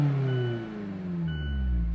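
A 2024 Mazda Miata ND3 engine and exhaust, a steady close hum with rising harmonic tones as revs climb, moderately loud with no talking.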